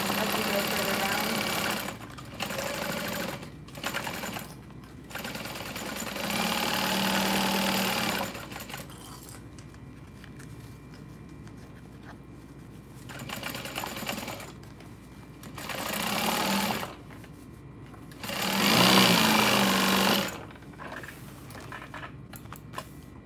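A sewing machine stitches a seam in several separate runs of fast, even needle chatter, close by, with quiet gaps and a little speech between the bursts.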